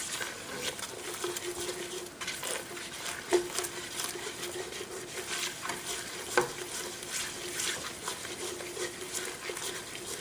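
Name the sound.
flour cooking with butter for bechamel roux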